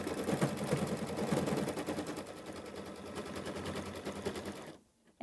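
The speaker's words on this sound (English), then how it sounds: "Place the fabric over top and let the machine do the tack down stitch." Embroidery sewing machine running a tack down stitch on fabric, giving a fast, steady mechanical rattle of needle strokes that tapers off and stops just before the end. It plays alone at close range and sounds quiet.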